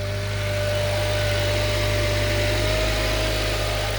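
A Honda Accord engine idles steadily after old E85 fuel has been drained from the tank, a constant low droning hum with a faint whine on top, close and unbroken.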